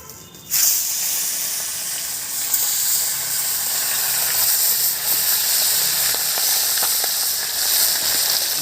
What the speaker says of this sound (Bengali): মাছটা ভাজা আসছে